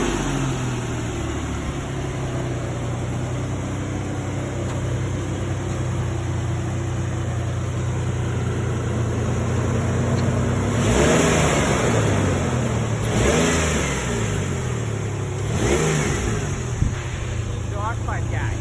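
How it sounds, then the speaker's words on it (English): A pickup truck engine idles steadily nearby with a low, even rumble, then rises through three short revs late on, while people talk faintly in the background. "I'll start her up and give her a few revs for you guys."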